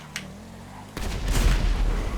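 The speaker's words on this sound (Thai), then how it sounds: "หรือว่ามันระเบิดเองอ่ะ" A sudden loud boom bursts out in a Thai car-chase video game near a casino, followed by a rumbling, crackling blast that swells and lingers for over a second.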